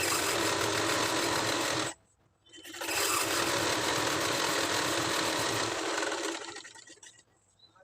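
A sewing machine stitching a straight seam on a lining blouse, running loud and continuous, stopping for about a second, starting again and then slowing to a halt.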